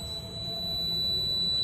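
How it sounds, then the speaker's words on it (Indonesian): A motorcycle anti-theft detection buzzer holds a continuous shrill electronic tone steady over low background hum, loud and close. "Dan kalau jaraknya agak jauh, suara buzzer akan mengecil."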